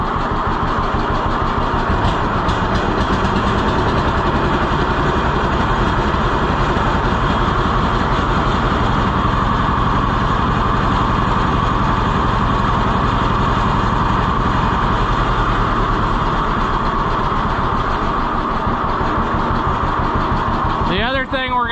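A car engine with a carburetor idles continuously, a close, steady rumble lasting over twenty seconds, with someone talking over it.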